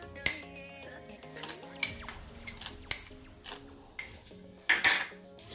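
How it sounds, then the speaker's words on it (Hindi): Date cake batter is mixed in a bowl, with sharp clinks and knocks of a utensil striking the bowl at irregular intervals and softer scraping between, close and fairly quiet. "सभी चीज़ को अच्छी तरह मिलाएंगे।"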